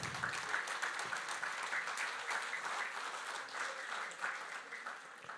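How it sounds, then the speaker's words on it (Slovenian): A crowd claps at a municipal holiday ceremony in Moravske Toplice, Slovenia, with dense, steady, fairly distant applause that carries on throughout. "In en aplavz."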